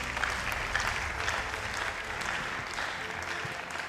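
A church congregation applauding together during a prayer service, steady sustained clapping from many hands at moderate volume, with faint voices underneath.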